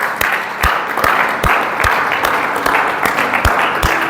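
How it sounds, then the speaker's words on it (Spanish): A church congregation applauds during a Spanish-language service. Loud, fairly close clapping runs steadily throughout, with sharp individual claps standing out at regular intervals over the crowd's wash of sound. "dale un fuerte aplauso a Cristo Jesús, Señor nuestro."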